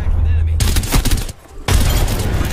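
Gunfire in the video game Apex Legends while shooting an enemy: two loud, sustained bursts of rapid shots separated by a short lull, with some voice underneath.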